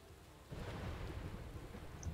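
A low rumble of thunder rolls in during a lightning storm in the stealth game Aragami, swelling suddenly after a quiet moment and lingering faintly over a soft wash of rain.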